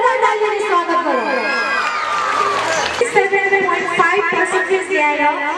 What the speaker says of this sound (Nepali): कृपया जोरदार तालीले स्वागत गरौँ